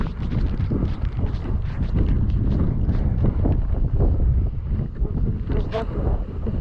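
A Can-Am Renegade 1000R or CFmoto CForce 1000 ATV being ridden hard, with a steady loud engine roar buffeted by heavy wind noise across the microphone throughout.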